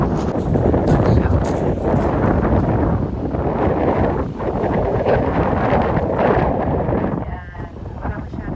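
Strong seaside wind buffets the microphone on a fishing trip at Hayling Island, a loud, continuous roaring gust noise that fills the whole clip, easing slightly near the end.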